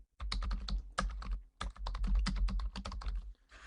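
Rapid typing on a computer keyboard, close and distinct, with quick clusters of sharp key clicks, a brief pause near the middle, and no voices.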